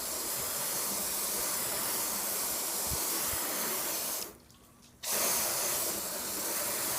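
Turtle Wax ICE Spray Detailer hisses steadily from a spray bottle onto a car panel. The spray runs continuously for several seconds, pauses briefly, then resumes.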